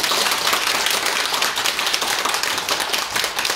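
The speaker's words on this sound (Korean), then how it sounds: "다시 한번 열정적으로 발표해 주신 박재석 원장님께 박수 부탁드리겠습니다" Attendees at a policy evaluation forum in a Seoul press center applaud a presenter, a loud, dense wash of many hands clapping continuously without pause for a few seconds.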